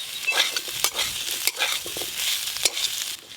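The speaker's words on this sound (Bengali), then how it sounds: "আলু কচু মশলার সঙ্গে ভালো করে নেড়ে নিয়েছি।" Potatoes and taro stirred with ginger-cumin paste and chili powder in a frying pan, a busy run of scraping strokes and oily sizzle with sharp utensil clicks against the pan, close and steady with no talk.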